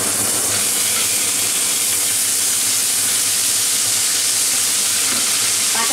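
Ginger dropped into hot oil for a Bengali-style vegetarian paneer dish, a loud, dense, continuous sizzle and crackle close up, with no talking.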